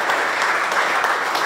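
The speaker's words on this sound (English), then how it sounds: "Y'all give these great people a giant round of applause." Loud, close applause from the crowd at a hardwood manufacturing press conference, a brief burst of steady clapping with no talk over it.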